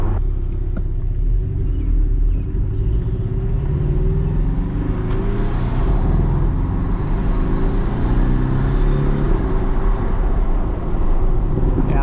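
A Porsche engine runs steadily while driving on a road, a loud, continuous low rumble with a constant drone and no talking over it.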